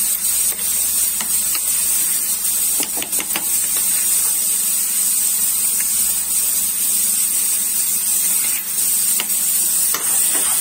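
A hot and sour mixture for paneer noodles is stirred in a pan, giving a loud, continuous sizzling hiss with faint scraping ticks throughout and no voices.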